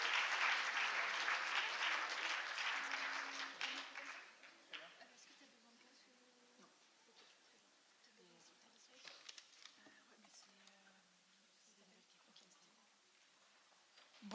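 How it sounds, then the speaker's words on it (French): Audience applause at a conference on serious games and One Health, a dense loud clapping burst for the first four seconds that fades away into quiet room murmur and scattered sounds. "Je pense que vous pouvez applaudir You Serious Game qui monte sur scène."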